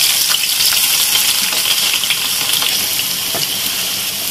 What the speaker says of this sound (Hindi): इसके अंदर मैं प्याज शामिल कर रही हूँ